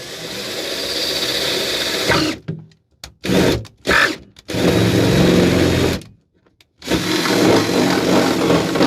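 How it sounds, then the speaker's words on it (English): A power drill whines loudly in sustained bursts while drilling holes in fiberglass, cutting out several times with short silent gaps before starting up again. "I hate drilling holes in my fiberglass"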